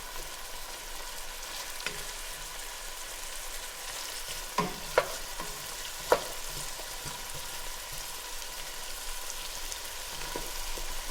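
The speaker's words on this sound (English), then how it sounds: "just keep flipping the meat to get it nice and even" Beef for stew frying in a pan on the stove, a steady low sizzle running throughout with a few sharp clinks of a utensil against the pan around the middle as the meat is turned; no one speaks.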